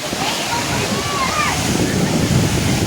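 A village waterfall in the rainy season roars with steady, loud rushing and splashing water, a dense continuous wash with a few faint voices and whistles from the crowd nearby.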